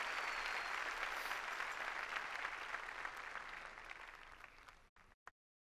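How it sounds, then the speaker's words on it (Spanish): A church congregation applauds during a Sunday morning service, a dense, steady wash of clapping that holds strong for several seconds and then fades out abruptly. "Dele un fuerte aplauso al Dios"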